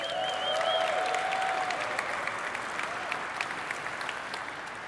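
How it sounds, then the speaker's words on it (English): Audience applause for YC at the Supabase Select main stage event, a steady crowd clapping that holds for several seconds, with faint tonal whistles early on, then slowly thins and fades toward the end. "round of applause for YC"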